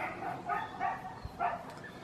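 Dogs bark outdoors in a short run of four or so yaps, moderately distant and fairly faint, with no talking.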